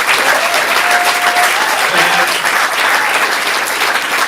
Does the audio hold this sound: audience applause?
yes